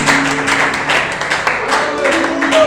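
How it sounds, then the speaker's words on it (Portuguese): Members of a church congregation clap joyfully as they take their seats, a steady dense patter of hand claps with a faint musical tone and low background voices. "Que os irmãos possam se assentar com as palmas bem alegres para o nosso Senhor"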